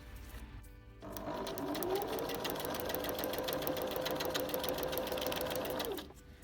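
A sewing machine stitching free-motion embroidery: a steady rapid mechanical whir and tapping that starts after a second, runs evenly for about five seconds, then stops, fairly faint and alone.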